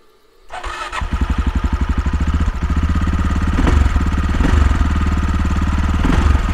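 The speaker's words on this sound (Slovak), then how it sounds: "Motorečku máme predstavenú a samozrejme vám ju musím aj naštartovať." An SWM Superdual T single-cylinder motorcycle cranks and fires up, then settles into a fast, steady thumping idle that grows slightly louder and holds, close and loud with no speech.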